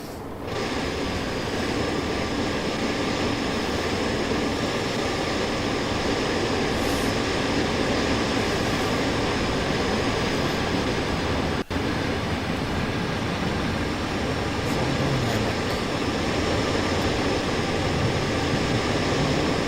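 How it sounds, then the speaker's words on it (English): Simulated passenger train in Train Sim World 5 running steadily and easing down in speed, a continuous loud rail rumble and hum with faint tonal whine, no voices, one brief click near the middle. "Bringing the train's speed right down, since not too far from my destination."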